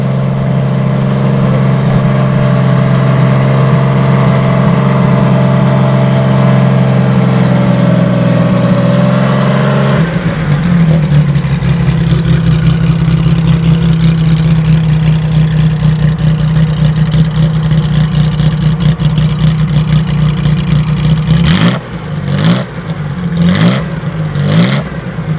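Vintage AC car engine in the paddock at a Loton Park hillclimb, loud and close, idling with a steady deep hum, then held at higher revs, and ending in several sharp throttle blips.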